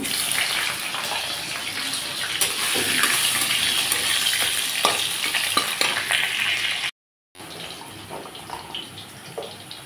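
Potatoes tipped into hot oil tempered with nigella seeds, for a fish dish with taro and stems, erupting into a loud, continuous sizzling fry with stirring clatter, a brief cut near the seventh second, then frying resumes.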